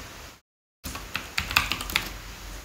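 Fast keystrokes on a computer keyboard as a command is typed into a terminal, a burst of close, crisp clicks following a short silent gap, with no voices.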